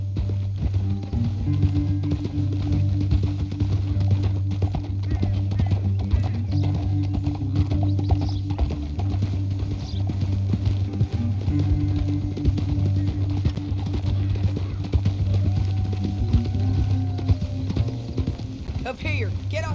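Horses gallop in Red Dead Redemption 2, their rhythmic clip-clop of hooves steady and continuous over low rumbling game ambience, with someone talking over the hoofbeats.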